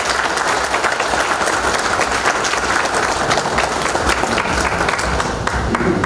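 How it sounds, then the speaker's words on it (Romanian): A crowd applauds loudly and continuously at a ceremony honoring couples married fifty years in Dărmănești, Romania: dense, sustained clapping from many people with no speech on top. "haideți să-l aplaudăm!"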